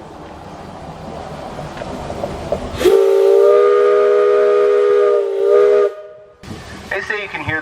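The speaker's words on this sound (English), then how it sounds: "They say you can hear those whistle blasts from over 10 miles away." A steam locomotive whistle on the Cripple Creek and Victor Narrow Gauge Railroad gives a loud, sustained blast lasting a few seconds, followed by a second shorter toot over the train's rumble.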